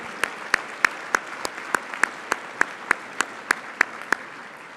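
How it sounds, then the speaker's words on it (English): Rhythmic, evenly spaced claps ring out at an award event honouring community educators, a single steady beat of loud handclaps over a soft background of crowd applause. "So a big round of applause to our community educators."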